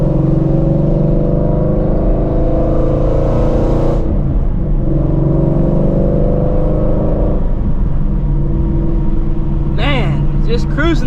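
A Ford Shelby GT350 Mustang with a carbon fiber hood cruises along, its engine a loud steady drone with shifting tones and a brief lift around midway, while someone talks over it throughout.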